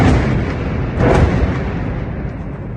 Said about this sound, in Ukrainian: так звучить авіаудар по центру Бахмута